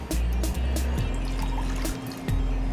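Water poured from a cup into a cooking pot for coffee, a steady liquid trickle and splash running close and continuous for a few seconds with no talk.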